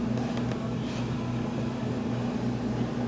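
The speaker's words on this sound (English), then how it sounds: "So I'm just going to kick the speed up to 2 on the KitchenAid and let this get mixing together." A KitchenAid stand mixer running at speed 2 while mixing bread dough, giving off a steady, low motor hum at a faint, even level with no talk.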